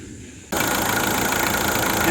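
A Ford Everest engine, just reassembled, catches and starts: after half a second of quiet it bursts into a loud, steady running roar that holds at a constant level to the end.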